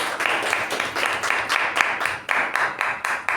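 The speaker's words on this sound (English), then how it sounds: "Give a round of applause for her" A small community meeting audience gives Aparna a round of applause, a quiet, moderately paced clapping with distinct individual claps in a loose, fairly regular rhythm.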